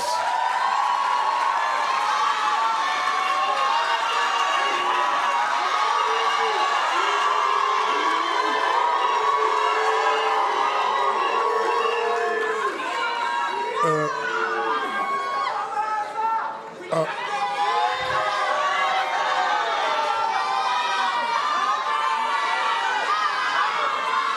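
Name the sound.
graduation audience applauding and cheering for lecturers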